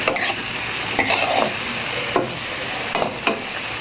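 Pumpkin stir-fried with egg and basil leaves, loud continuous sizzling in a pan with several sharp spatula scrapes and tosses at irregular intervals, close and without talk.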